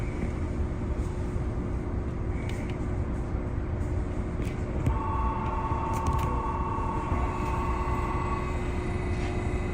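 A Tokyo monorail train runs along its rails from Haneda Airport, giving a steady, close interior rumble and hum that never lets up, with a faint tonal whine midway and no talking.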